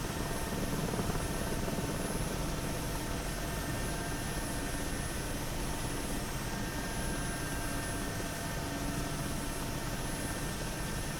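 Steady, loud drone of an Mi helicopter's turbine engine and rotor in the DCS flight simulator, continuous and unbroken throughout with a high whine riding over a dense low rumble.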